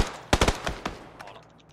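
Rapid gunfire bursts from a battle royale video game, several sharp close shots clustered early then a single later shot, trailing into fainter distant pops.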